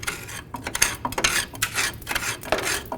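Close, continuous scraping and rasping as crud is cleaned out of the front upper control arm bump stop mount on a 1994-2004 Chevy S-10, harsh and busy throughout.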